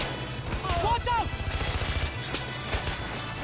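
Rapid gunfire rattles in the video game Far Cry 4, a burst of quick repeated shots over the game's ambient background, with brief voice-like sounds mixed in.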